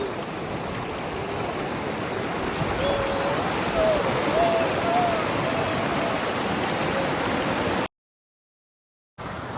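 A river flows steadily in Valparai as a continuous, full rushing wash, with a few bird chirps and whistles rising briefly above it near the middle. The sound drops out entirely for just over a second near the end.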